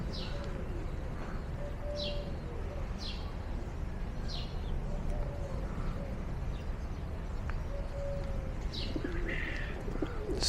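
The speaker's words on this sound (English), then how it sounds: "Beautiful, beautiful doves." Doves coo softly and repeatedly at a church in Thessaloniki, Greece, their calls recurring every second or so over a steady outdoor background hum, with a few faint chirps from other birds.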